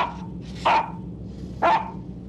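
A dog gives two sharp, loud barks about a second apart over a low rumbling background, with nothing else standing out.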